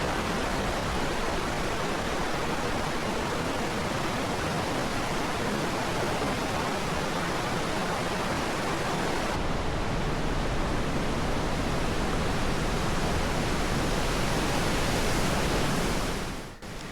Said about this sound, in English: A quiet spot by a river.